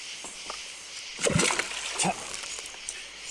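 A freshly caught fish is tossed back into the water on a fishing trip, giving a sharp splash followed by a smaller slosh over faint background noise.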